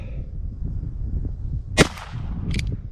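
A Ruger Wrangler revolver fires 40 grain Mini Mag rounds at an outdoor range: one sharp, loud crack followed moments later by a second shorter report over a low background rumble.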